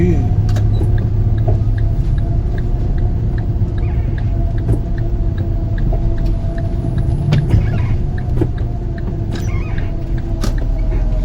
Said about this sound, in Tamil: இப்படி டிராஃபிக்கா இருக்கு.